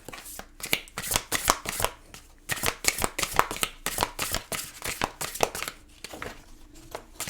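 Tarot cards being shuffled and drawn, rapid repeated riffling bursts of card flicks in quick succession, close and crisp, with a brief pause near the end.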